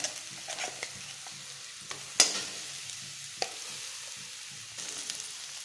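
Ground paste frying with roasted urad dal in a pan for pappadam thoran: a faint, low sizzle with a few spatula knocks and one sharp clack, quiet and close, no voices.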